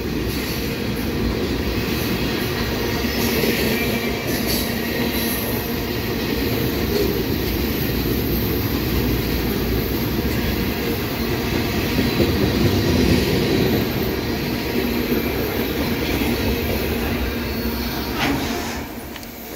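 A rebuilt EMD SD70MAC diesel locomotive leads a heavy CSX ethanol train past a grade crossing on the Old Main Line, with steady loud rumble and clattering wheels on rail continuing throughout, close and unbroken, with no voices.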